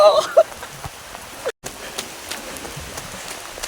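Rain falls in a steady hiss, with a brief bright sound at the start and a short dropout midway.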